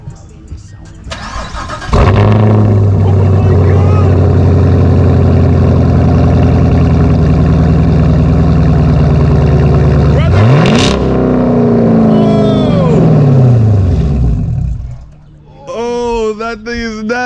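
A Chevrolet Camaro fitted with an AWE axle-back exhaust cranks and fires into a loud, rumbling idle, then gets revved hard several times before settling. Voices come in near the end.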